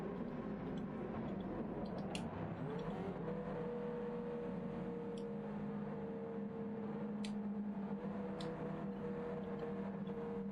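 Race car engine in a racing video game, a steady droning hum that rises in pitch and then holds at a sustained whine, heard alone with no talking.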